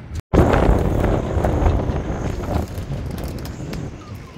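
Strong wind gusts buffet a sailing boat at sea, a loud, continuous broadband roar battering the microphone after a brief dropout, with no speech.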